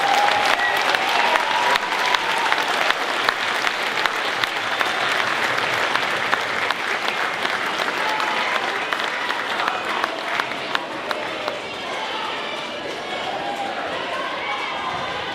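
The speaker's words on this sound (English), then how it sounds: "Can we give them one more round of applause?" Sustained audience applause after a school winter instrumental concert, dense steady clapping from a crowd filling the room, tapering slightly toward the end, with some voices mixed in.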